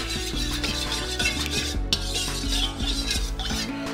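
A spoon stirs in a bowl to dilute a mixture for chorizo rillettes, continuous scraping and clinking rubs, close and fairly loud with no talking.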